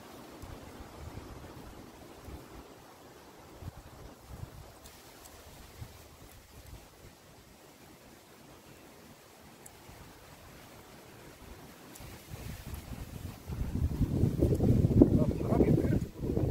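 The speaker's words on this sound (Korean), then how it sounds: "바람이 그렇게 불어." Wind blows across an outdoor spot in America where pork belly is grilled on a cast-iron pot lid, rushing softly against the microphone before swelling into a loud, buffeting gust near the end.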